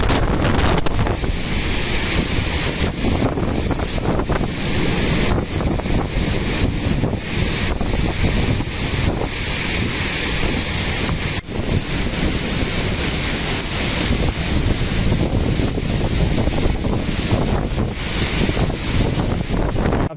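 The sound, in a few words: heavy storm rain and wind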